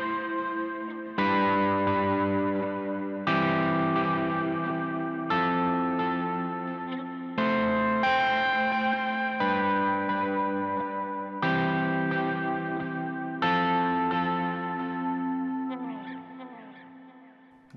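Electric guitar arpeggios played through reverb and drive pedals, a series of sustained, distorted chord-like notes with long reverberant tails, restruck roughly every two seconds and close and loud.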